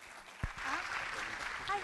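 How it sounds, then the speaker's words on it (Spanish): Applause from an audience at a judges' training session on intellectual property, a soft steady clatter of clapping lasting about two seconds, with a brief thump and some murmuring mixed in. "Un aplauso, por favor,"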